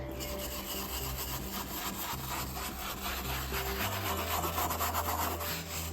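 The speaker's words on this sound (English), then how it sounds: "So getting on these corners, that's when I'd switch to maybe this smaller brush" A small brush scrubs the corners of rough-out saddle leather in steady, continuous back-and-forth strokes, close and fairly loud, a dense bristly rasp with no pauses and no voices.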